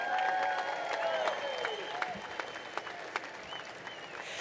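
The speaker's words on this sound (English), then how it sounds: "Let's have another rousing round of applause." An audience at a 2019 Independence Day Declaration of Independence reading ceremony claps in a steady, dense round of applause, a crowd of many hands sustained throughout, with a few sharper individual claps standing out near the end.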